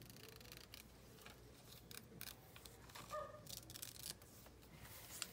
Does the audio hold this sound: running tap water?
no